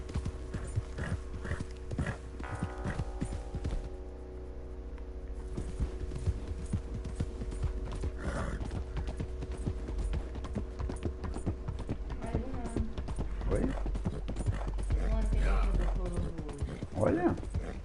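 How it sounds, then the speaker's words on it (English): A horse's hooves clip-clop in Red Dead Redemption 2, a steady run of close, distinct hoof strikes over game ambience and mechanical clatter, with a voice briefly heard. "Vamos ver se eu chamo meu cavalo."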